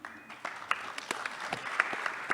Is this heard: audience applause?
yes